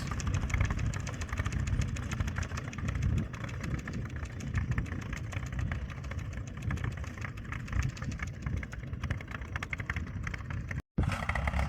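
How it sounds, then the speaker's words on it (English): A tractor spreading calcitic lime across a field drives steadily with a loud engine drone, continuous rattling and shaking throughout, and a brief dropout near the end. "It's quite a bumpy ride on the tractor, especially when it starts getting lighter and everything shakes and rattles."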